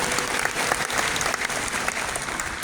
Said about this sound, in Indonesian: Untuk Tuhan kasih tepuk tangan untuk semua orang.